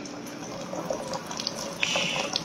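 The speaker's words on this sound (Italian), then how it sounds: "voi sentite che già nella pentola già bolle" Water coming to a boil in a cooking pot for artichokes with eggs, a steady close bubbling and hissing with small pops and gurgles, no voices.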